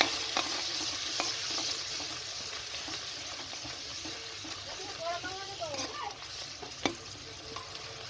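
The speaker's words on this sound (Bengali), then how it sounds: "এবার দিয়ে কষবো" Ginger-garlic paste and salt are sautéed in a pan for a prawn curry, giving a soft, continuous sizzle under repeated scraping stirs, fairly quiet and close.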